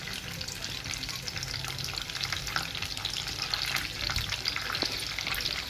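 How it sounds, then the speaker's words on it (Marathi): Chopped onion being sautéed in a pan for smoky butter pav bhaji, a continuous close sizzle with scraping stirs scattered through it. "कांदा चांगला मऊ होईपर्यंत आपल्याला तो परतवून घ्यायचा आहे"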